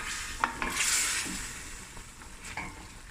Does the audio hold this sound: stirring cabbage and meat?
yes